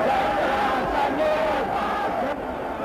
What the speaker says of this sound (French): La foule mécontente l'entoure.